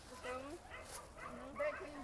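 Two dogs whimper and yip in short, high, whining bursts at breakfast time, fairly quiet and close, while a person talks alongside them.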